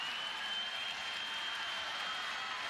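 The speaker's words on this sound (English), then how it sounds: "This crowd is ignited right now." Stadium crowd at a women's college softball game between Texas Tech and Texas, a steady broad roar of cheering and applause sustained throughout at moderate distance, with no distinct voices standing out.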